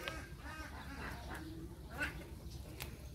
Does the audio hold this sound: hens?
yes